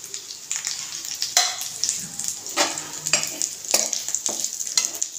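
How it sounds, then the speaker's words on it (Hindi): Ground peanuts tipped into a hot pan and stirred, giving a bright sizzle broken by repeated scraping strokes and light clatter of the spoon against the pan, close and fairly loud. "अब ये जो मूंगफली हमने पीस के रखी थी उसको डाल देंगे इसमें"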